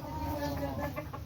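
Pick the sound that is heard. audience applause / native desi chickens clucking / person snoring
native desi chickens clucking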